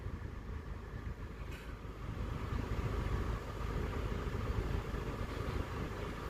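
A VW Golf heater fan blows air during a heater performance test, giving a steady, even broadband whoosh with a low rumble beneath. It runs continuously and grows slightly louder partway through, with no talking.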